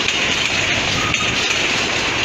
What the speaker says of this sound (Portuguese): Porque o vagão que tá vindo pra cá já tá vindo, tá?